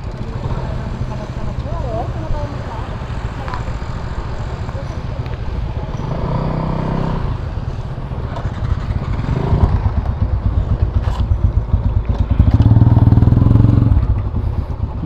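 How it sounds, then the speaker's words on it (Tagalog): A Honda Smash 115 motorcycle is kick-started and revved, with clattering kicks giving way to a steady engine that swells into a louder rev near the end, while people talk over it. "Ako'y magsisipa muna ng motor."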